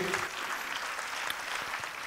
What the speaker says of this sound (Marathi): मला वाटतं या गीताच्या सगळ्या कलाकारांसाठी एकदा जोरदार टाळ्या झाल्या पाहिजेत